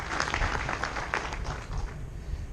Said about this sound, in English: Give another big clap.